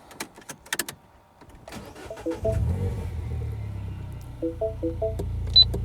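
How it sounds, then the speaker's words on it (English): A MINI Cooper engine cranks and catches, settling into a steady low idle after a few soft clicks and rustles; chiming warning tones ring over the running engine. "I'm going to start the car and see if I have any throttle"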